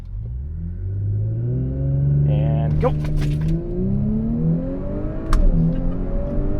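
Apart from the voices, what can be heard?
2019 Audi S4 launch control acceleration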